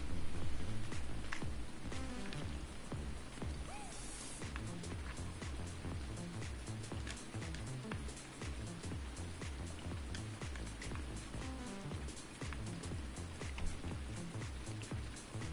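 Steady rain pours across the Pacific Northwest map of a PS4 game, a dense continuous hiss with patter that holds at an even level throughout, layered with low game music and rumbling tones.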